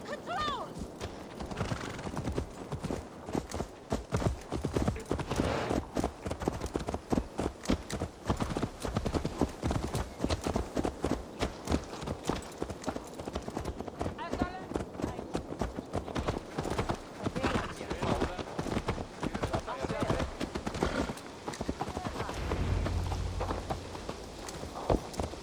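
Horse hooves clip-clop steadily on the ground in the Viking-era game Assassin's Creed Valhalla, a dense walking rhythm that runs throughout, with an occasional whinny and game voices speaking over it.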